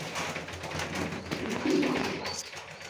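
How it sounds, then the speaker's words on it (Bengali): Two racing pigeons coo close by in a loft, a soft low purring that carries on under a steady background hum, with no one speaking. "দুইটা কবুতর"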